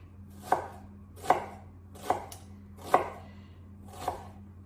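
Five evenly spaced knife chops through an onion on a cutting board, sharp and close, each a distinct thud with a low steady hum underneath and no talking.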